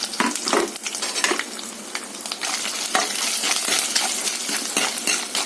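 Pieces of coconut fry in hot oil for a chickpea curry, giving a busy crackling sizzle with sharp spatters and the scrape and clink of stirring throughout, no voices present.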